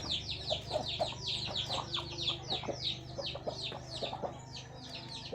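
Hens with chicks cluck in a poultry breeding section, a dense overlapping chorus of short repeated calls and chirps close by, with a steady low hum underneath and no talking.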